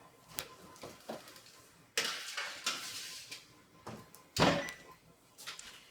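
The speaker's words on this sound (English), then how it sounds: "I'm just gonna put them in the oven for a few minutes to toast them" A tray of rosemary-oiled pecans going into a kitchen oven to toast, heard as a few close metallic clanks, thuds and an oven door moving, with no talking.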